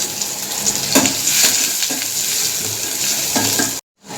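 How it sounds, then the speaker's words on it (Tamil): Onions sizzle and fry in hot oil in a pan while preparing eggless noodles, a steady crackling hiss with occasional stirring scrapes, close and continuous, briefly cut off near the end. "வெங்காயம் போட்டு நல்லா வதக்கிக்கலாம்."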